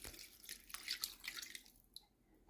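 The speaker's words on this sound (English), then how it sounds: "let's see what another 4 cups of water looks like" Water poured into a slow cooker pot of broth, quiet dripping and splashing in short uneven bursts that trail off, with no talk.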